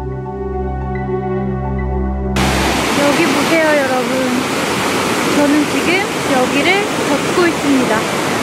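A steady, heavy roar of rushing water from a large waterfall at Plitvice, Croatia, takes over after a short electronic tone, with voices talking excitedly over the constant wash.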